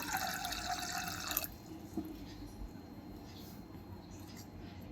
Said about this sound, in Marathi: आता इथे आपल्याला हे वाटाणे बुडतील एवढं यामध्ये पाणी घालायचं